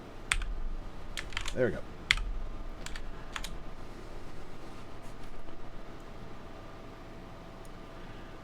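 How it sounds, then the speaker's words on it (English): Bursts of fast keystrokes on a computer keyboard, clicking close by in short clusters over a faint fan-like hiss. Someone speaks briefly partway through, and the typing trails off near the end. "Come on, I can type."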